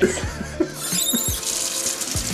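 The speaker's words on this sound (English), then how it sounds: "Alright, all you need is soap and warm water. Want to make sure you clean your hands thoroughly." Warm water runs from a sink tap while hands are washed with soap, a close, steady splash broken by a few brief thumps and rubbing sounds, with no talking.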